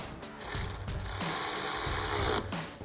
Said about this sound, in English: Now we'll go ahead and tighten these down with our 10mm socket on our ratchet